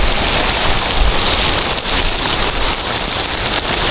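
Heavy rain pours steadily, a dense, loud hiss of drops on surfaces with no pauses and no voices.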